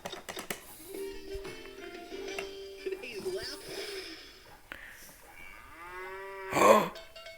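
Cattle lowing nearby, several drawn-out moos with a rising and falling pitch, the last one loudest, heard from inside a car while people talk.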